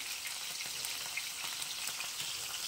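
Onion, ginger and garlic paste sizzles and fries with climbing perch (koi) fish in a pan, a soft, steady crackling hiss heard close and alone.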